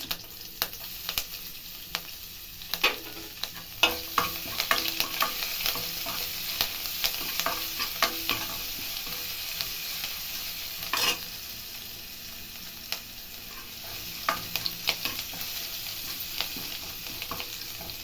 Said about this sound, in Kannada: ಈರುಳ್ಳಿ ಇದೊಂದು ಸ್ವಲ್ಪ ಒಂದು ಐದು ನಿಮಿಷ ಫ್ರೈ ಆಗಬೇಕು